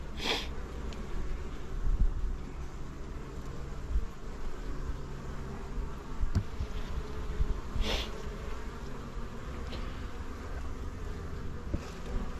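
Honeybees in a hive of two full boxes that came out of winter strong, buzzing in a steady, dense drone close by, with a few brief louder passes as single bees fly near.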